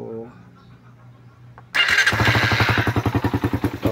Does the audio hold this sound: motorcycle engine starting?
yes